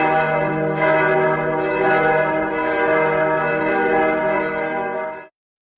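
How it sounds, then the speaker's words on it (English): A large church bell rings loudly and steadily, its deep tone humming and sustaining for several seconds before cutting off abruptly. "the church bells resonated through the village"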